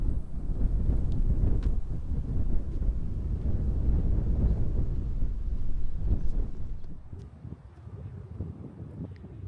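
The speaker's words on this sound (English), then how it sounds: "Too windy." Strong outdoor wind beside a busy road with a train nearby, gusting into the microphone as a heavy, rumbling roar that surges and dips, easing somewhat near the end.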